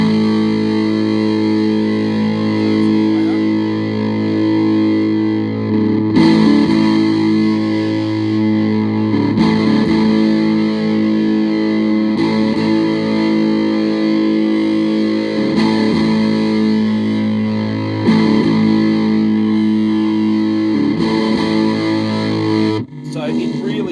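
Heavily distorted electric guitar through a Retro Effects fuzz pedal, a thick, buzzing, grating fuzz tone, sustained chords struck every few seconds, loud and continuous.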